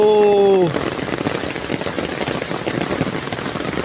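Steady rain patters and hisses densely after a brief tonal sound at the start, constant and fairly loud with no talking.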